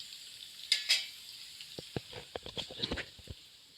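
Onions frying in hot oil for aloo mattar biryani, a soft steady sizzle broken by a few louder spits and light stirring clicks, close and alone.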